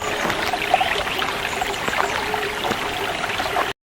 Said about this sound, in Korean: 집 앞에 지금 이렇게 다 또랑도 있고 물이 많지는 않지만 물소리 한번 들어보실래요?